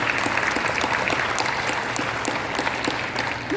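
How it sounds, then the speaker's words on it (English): Room full of guests at an industry appreciation awards ceremony applauds their MC, a loud, sustained wash of clapping that holds steady from start to finish with no talk over it. "Let's give Rachel, our MC today, a great round of applause"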